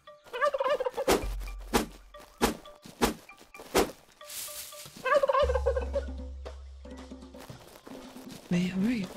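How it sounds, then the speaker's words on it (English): A small turkey in the video game Tribe Primitive Builder gobbles in several short bursts, mixed with sharp in-game thunks and clicks and some talking over parts of it. "Teeny tiny turkey."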